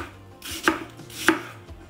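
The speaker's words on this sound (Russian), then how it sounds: "И нарезаем не очень крупными кубиками" Two sharp knife chops through apples into cubes on a cutting board, spaced about half a second apart, close and crisp against a quiet background.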